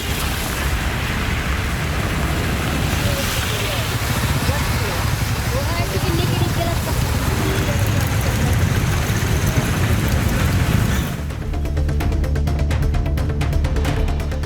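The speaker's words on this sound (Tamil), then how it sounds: "மாலை நேரத்தில் திடீரென்று குளிர்ந்த காற்றுடன் மழை பெய்தது" Steady rain with cool wind on an evening, a dense broadband wash that runs continuously and loud, shifting in tone near the end as the hiss thins out.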